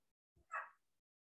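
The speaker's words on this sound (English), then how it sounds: "oh, sorry, that's my dog." A single short dog bark or yelp, faint and brief, with a low thump just before it, heard indoors in a quiet room during an online lecture.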